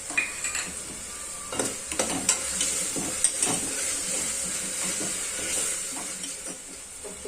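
Chilies sizzle in hot oil while a spoon stirs and scrapes the pan for masoor bhat, giving a steady frying hiss broken by irregular metallic clinks.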